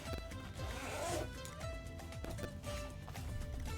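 A clothing zipper rasps open or shut in short scratchy pulls, faint and somewhat distant, over a background of music during a trading card organizing session.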